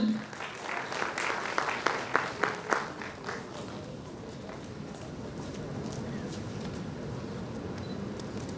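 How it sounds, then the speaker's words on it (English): A conference audience at a pharmaceutical sciences event gives a round of applause, loud dense clapping that peaks early with a few sharp accents, then settles into a softer, steady patter for the rest. "give a big, huge round of applause"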